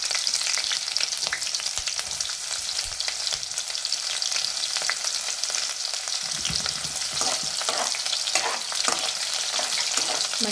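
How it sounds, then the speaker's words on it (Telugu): Sliced onions frying in a pan until golden for a broad bean and tomato curry, giving a steady, dense sizzle throughout with occasional stirring scrapes, close and fairly loud, no voices. "ఈ ఉల్లిగడ్డ కూడా మంచి గోల్డెన్ కలర్ వచ్చేంత వరకు అయితే మగ్గించుకోవాలి"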